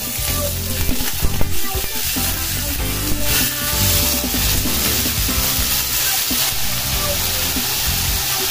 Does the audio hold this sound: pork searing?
yes